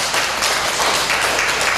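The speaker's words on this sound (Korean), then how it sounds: "큰 박수 한번 하겠습니다" A hall audience at a special education lecture breaks into loud, steady applause, dense clapping filling the whole moment without a pause.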